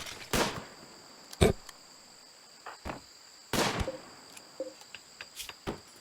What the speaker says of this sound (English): Don't listen to the gunfire.